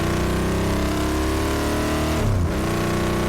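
A Royal Enfield Interceptor 650 motorcycle with modified exhaust pipes rumbles loudly and steadily while riding, with a brief dip and rise in engine pitch near the end.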